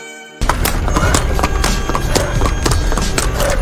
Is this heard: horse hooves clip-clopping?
yes